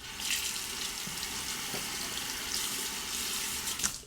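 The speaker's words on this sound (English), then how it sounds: "Let's rinse it." Running water rinses shaving cream from a Parker Director Japanese-style shavette razor under a tap, a steady close hiss and splash with no speech.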